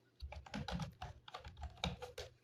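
Fingers tap on a computer keyboard, entering a website name into a Microsoft Excel data field, giving a close, quick run of irregular clacking keystrokes.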